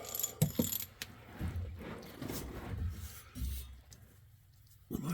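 A hand ratchet clicks in short uneven bursts while loosening the oil filter on a Hisun Remington Pursuit during an oil change, close and moderately loud with pauses between strokes.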